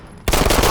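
Gunfire in the Fallout 4 video game erupts after a brief quiet moment, a loud rapid burst of shots that continues to the end of the short clip.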